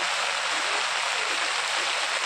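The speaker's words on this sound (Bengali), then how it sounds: "আর অসম্ভব জোরে বৃষ্টি হচ্ছে, যে দেখো চারিদিকে জল হয়ে গেছে" Heavy rain pouring down around a person standing under an umbrella in a waterlogged street, a steady dense hiss filling the whole clip with no talk.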